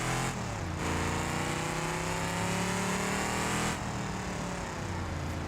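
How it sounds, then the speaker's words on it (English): A V8 car engine from GTA 5 drones steadily and loudly throughout, a smooth continuous purr with a slight shift in pitch partway through, no talking over it. "Listen to that V8 purr."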